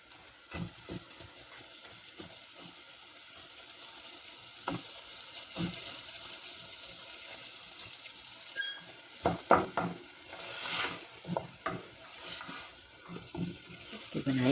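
Potatoes and fenugreek leaves fry in a pan over high heat, with a steady close sizzle, stirring scrapes and occasional clinks of a utensil against the pan.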